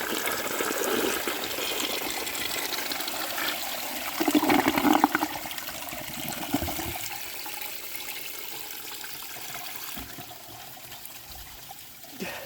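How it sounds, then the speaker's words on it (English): A life-size clay wash-down siphonic toilet with concealed siphon jets flushes with a loud, close rush of water that surges midway, then settles into a steady trickling refill. "I'm gonna give you a flush of it."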